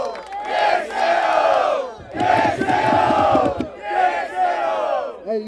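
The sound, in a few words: crowd cheering and shouting at a rap battle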